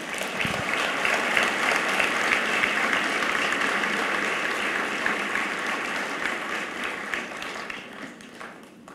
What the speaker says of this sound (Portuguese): Se você crê nisso, aplauda o Senhor Jesus, querido.